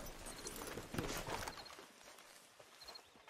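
Horse hooves clip-clop in Red Dead Redemption 2 as the animal walks at an easy pace, a soft steady series of hoof falls with faint background ambience and no talking.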